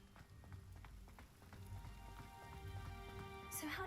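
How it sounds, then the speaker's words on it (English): Rain falls in Hogsmeade in the Hogwarts Legacy video game, a soft, faint patter over low rumbling game ambience, steady throughout, with a brighter swish near the end. "So just run to Hogsmeade in the rain."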